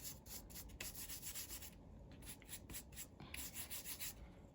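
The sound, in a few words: brush painting chipboard with leftover paint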